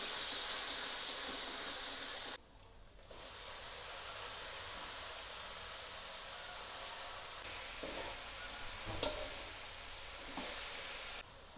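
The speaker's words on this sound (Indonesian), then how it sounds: "Ini yang pertama kita mau masak sayurnya dulu." Vegetables cooking in a pan for papeda give off a steady, close sizzling hiss that briefly dips and then carries on, with a few soft scraping clinks and no voices.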